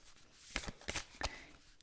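Thoth Tarot cards are shuffled in three quick, close riffling bursts at moderate volume, with near silence before and after.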